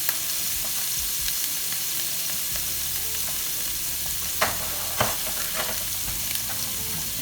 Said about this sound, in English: So I got my shrimp going.